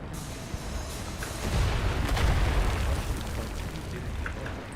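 A grenade explosion in the video game Wolfenstein rolls out as a broad, rumbling boom that swells over a couple of seconds and then trails into a sustained low roar, with no talk.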